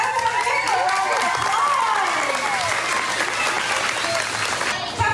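A school crowd breaks into sustained applause, dense and loud throughout with some cheering mixed in, and voices talk over it.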